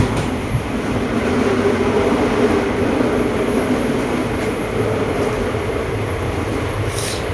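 A loud, steady rumble and rattle from inside a moving train's general-class coach, with continuous wheel and track noise and no talking.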